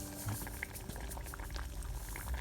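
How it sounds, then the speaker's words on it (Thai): A pot of khi lek (cassia leaf) curry with pork cracklings bubbles at a steady, gentle boil, a soft continuous burble and pop heard close and fairly quiet, with no voices. "ปล่อยให้เดือดอีกสักระยะหนึ่งนะครับ"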